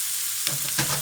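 Sausage breaking up and frying in a pan, a short burst of close sizzling with a couple of quick scrapes as it is stirred.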